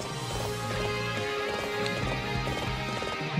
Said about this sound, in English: The cool uh, hoof sounds of Frederick's horse.